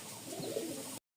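Pigeons coo softly inside a coop, a short, low, murmuring call heard at modest volume before the sound cuts off abruptly.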